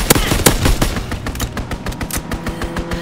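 Rapid machine-gun fire from a fighter aircraft strafing run in a video game, a steady stream of sharp close shots in quick regular succession, louder at the start and then settling into an even rattle.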